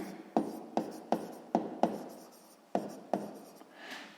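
A pen writes down an answer to a sixth-grade math exercise, heard up close as a series of short, sharp scratchy strokes and taps in an irregular rhythm, followed by a brief softer rub, with no talking.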